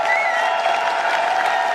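An audience at a company product-launch gathering claps in a dense, continuous wash, loud and sustained with no pauses.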